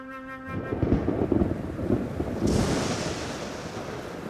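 Thunder rolls through an electrical storm over desert sand dunes, a loud, sustained rumble with broad noisy texture and a fresh surge partway through, heard alone without voices.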